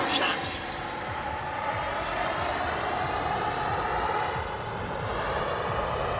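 An FMS F-86 Skyblazers 80mm electric ducted-fan RC jet roars past with a steady high whine and airy rush, rising and falling as it flies by, with no voices.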